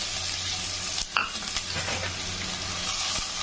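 Chopped onions sizzle and crackle steadily in a hot pan, close up, with a brief stirring scrape partway through.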